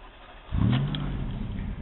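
A car fitted with an HHO hydroxy gas system cranks and starts, its engine noise rising sharply after a brief quiet moment and then holding a steady, loud low rumble with no talking.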